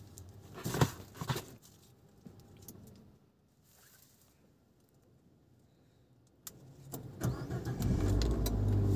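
An Abarth 500 with a 180 hp engine is started: clicks and cranking, a quiet pause, then the engine catches and settles into a low, rumbling idle close by, with no talking.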